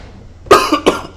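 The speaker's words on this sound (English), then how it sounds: "Apologize still about my cough." A person coughs twice in quick succession, close and fairly loud, with the second cough shorter than the first, over a quiet background.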